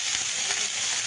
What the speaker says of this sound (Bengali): কচু শাক দিয়ে লোটে মাছ ভাজা